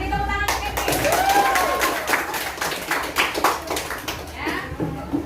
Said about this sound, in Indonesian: Beri tepuk tangan Kevin.